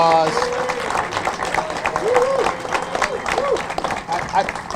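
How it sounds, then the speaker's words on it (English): Applause from a crowd at an outdoor statue unveiling, steady sustained clapping filling the whole stretch, with some voices and cheers mixed in. "So if we could give her a round of applause."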